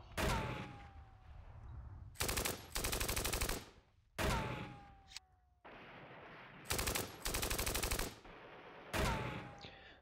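Loud machine gun bursts from the Steel Panthers wargame, set in a 1980 Iran-Iraq War battle, alternate with whistling incoming-round tones and low rumbling, in roughly five separate volleys with no speech.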